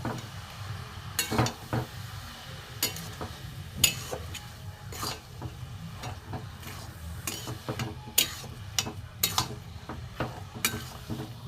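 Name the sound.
frying jaggery and coconut in a pan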